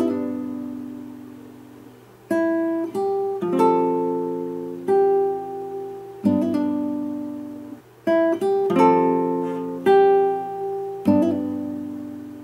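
Acoustic guitar playing the intro of a song with arpeggiated chords and a sharp pinky strike-and-pull technique; clear, close plucked notes ring out in a slow, spaced rhythm with no talking.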